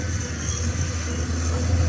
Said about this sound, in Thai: เสียงที่เป็นเอกลักษณ์ของคอมสูครับ